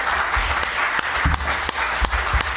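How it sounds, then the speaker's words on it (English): Applause at an awards ceremony, a steady, full burst of many hands clapping together, close and continuous with no talking. "I think she deserves an extra round of applause."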